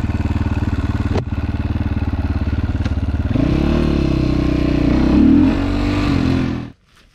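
A 2021 GPX FSE300R motorcycle engine starts and runs near the microphone, a rapid loud chugging idle that rises into a brief rev, then cuts off abruptly at the end.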